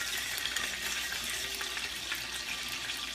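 Aglio e olio sauce cooks in a pan, giving a steady, even hiss of frying oil that carries close and continuous throughout with no talking.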